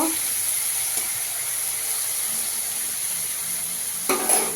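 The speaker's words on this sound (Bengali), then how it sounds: "এবার ভালো করে মশলাটা কষিয়ে নেব।" Spice paste of Kashmiri chilli powder and turmeric frying in hot oil, a steady close sizzle and hiss throughout, with a brief stirring scrape near the end.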